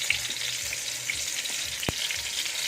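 Eggplant omelette (tortang talong) frying in a pan over lowered heat gives a steady, close hiss of sizzling oil that runs unbroken throughout, with no one speaking.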